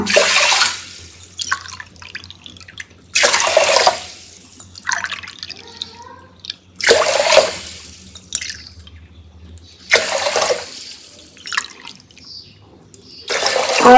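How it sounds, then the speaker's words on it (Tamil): Water poured from a tumbler into a pot of moong dal and rice for porridge, heard as a series of splashing pours about a second each, separated by short pauses, close and clear with no talking. "இப்போ தண்ணி வந்து ஆறு டம்ளர் தண்ணி சேர்த்துக்கலாம்"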